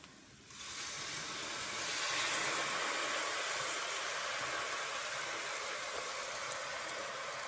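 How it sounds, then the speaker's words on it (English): White wine poured into a hot pan for mushroom soup sizzles and hisses in a loud, steady, close rush that jumps up suddenly and holds, with no talking. "Now I'm going to deglaze the pan a bit with some white wine."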